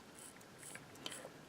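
An automatic watch wound by its crown, giving faint, fine ratcheting clicks over a brief moment, very quiet and close.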